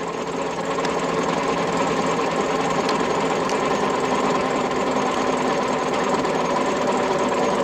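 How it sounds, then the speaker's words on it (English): Big hay tedder working in a field while mowing for hay, a steady loud mechanical drone with rattling, clattering texture running throughout, heard from a moderate distance with no talk. "Some sort of big tedder, haven't they?"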